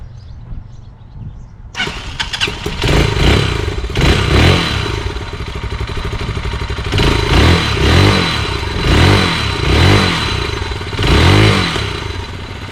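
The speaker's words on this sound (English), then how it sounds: "here she is back up and running with the new exhaust, factory exhaust" Enduro motorcycle with a new factory exhaust fires up after a brief start and then idles loudly and close, with repeated throttle blips rising and falling in a steady rhythm.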